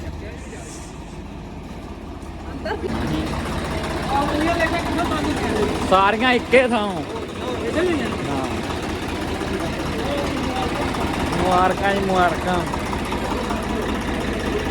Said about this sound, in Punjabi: ਹਾਂਜੀ ਟਰੈਕਟਰ ਆ ਗਿਆ ਘਰੇ